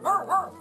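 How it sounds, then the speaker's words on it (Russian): A dog guarding its territory lets out three quick, close barks in an even rhythm, loud and clear with nothing else around them. "Он гавкает, потому что защищает свою территорию и хочет, чтобы мы ушли."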